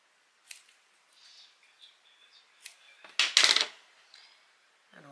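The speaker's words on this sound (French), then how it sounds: "Alors, ciseaux." Scissors cutting paper during a craft tutorial: a few sparse, faint close snips and clicks, then one louder rasping cut near the end, in a quiet room with no speech.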